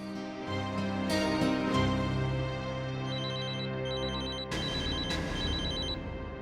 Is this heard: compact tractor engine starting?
no